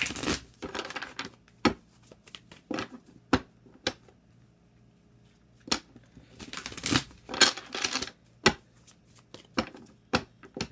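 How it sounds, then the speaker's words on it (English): Tarot cards being shuffled in quick bursts of flicks and riffles, separated by short pauses, close and fairly quiet with no talking. "let's get three shuffles for what's currently going on"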